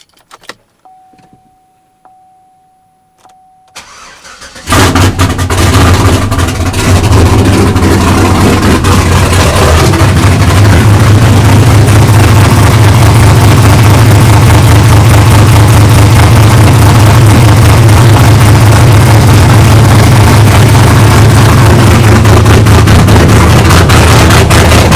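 Truck engine started and left idling after a Walbro 450 fuel pump install. It is quiet at first with faint clicks, then catches and settles into a loud, steady, close idle that runs to the end.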